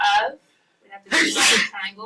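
A single sharp sneeze bursts out during a precalculus lesson, loud and close, with classroom speech just before and after it.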